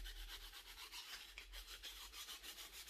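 Charcoal stick rubbed against sandpaper to sharpen its edge, giving a steady series of soft, rhythmic rasping strokes, close and fairly quiet, with no voices.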